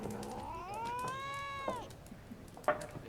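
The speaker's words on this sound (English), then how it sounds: "Don't hiss at me, cat." A cat in Witcher 3 gives a drawn-out, rising-then-falling meow or yowl lasting about a second, followed by a couple of short sharp sounds, close and fairly clear against a quiet game background.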